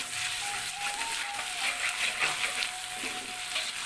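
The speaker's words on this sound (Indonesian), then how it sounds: "Bawang putih kita aduk-aduk." Ground spice paste and garlic fry in a pan for a stuffed beef intestine gulai, a soft, even sizzle with faint stirring scrapes and a thin tone held over it, fairly quiet and free of speech.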